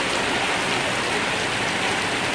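Steady rain falls outdoors on a rainy day, a dense, even hiss of drops striking surfaces, close and continuous throughout with no voices.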